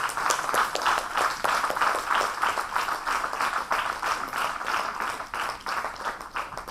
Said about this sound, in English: A round of applause to all the students.